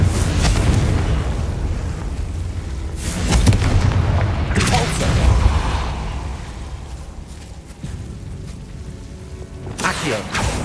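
Explosive Confringo and Bombarda spells in the video game Hogwarts Legacy go off as several loud, deep booms and blasts, some rumbling on for a second or two, with bursts near the start, middle and end.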